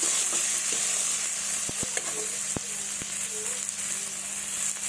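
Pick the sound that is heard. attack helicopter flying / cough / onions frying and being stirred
onions frying and being stirred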